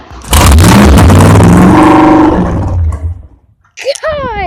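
A muscle car engine fires up with a very loud, close roar and holds a heavy rev before dropping off, followed by a person's brief exclaiming voice.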